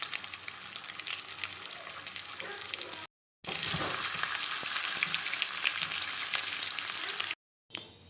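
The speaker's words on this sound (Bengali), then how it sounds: "আলুগুলো হলুদ আর নুন দিয়ে মাখিয়ে নিয়ে তেলে ভেজে নেব" Potatoes coated in turmeric and salt fry in oil with a dense, steady crackling sizzle that drops out abruptly twice before resuming.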